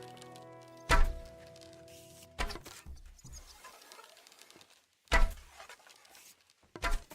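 Arrows from a bow thud into a target in Kingdom Come: Deliverance II, four sharp separate impacts spaced a few seconds apart over quiet ambience.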